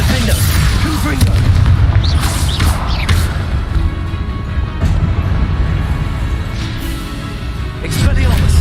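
A Confringo fire spell detonates in Hogwarts Legacy, giving deep, booming explosive blasts over a dense, continuous rumble of battle noise, with a voice speaking over it.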